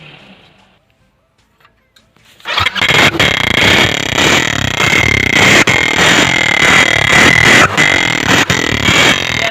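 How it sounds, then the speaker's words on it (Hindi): A motorcycle fitted with a long pipe on its silencer and a children's toy horn attached starts up after a quiet moment, then runs loudly and steadily with a rough, buzzing, horn-like drone and occasional sharp pops. "हमने मोटरसाइकिल के साइलेंसर में इतनी बड़ी लंबी नली लगाई है और फिर बाद में यहाँ पर हॉर्न लगाया है छोटे बच्चों खेलने वाला"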